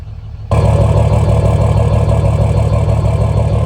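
Truck engine idling with injector 1 cut out, a loud close rumble that starts abruptly and then holds a steady, slightly uneven throb with no one talking.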